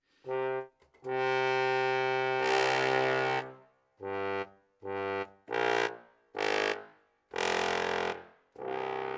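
Sampled brass and reed instruments from Project SAM Swing More play a series of loud, bright, sustained chords. Several short stabs follow, each ending with an audible release tail.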